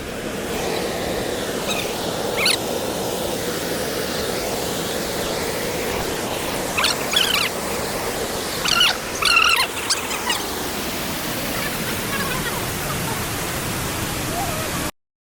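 Constant broadband rush of water from Mookanamane waterfall near Sakleshpur, loud and unbroken, with faint scattered voices and a few brief knocks over the roar.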